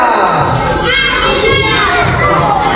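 A crowd of scouts, children shouting and cheering loudly together at a formation, a continuous excited roar throughout.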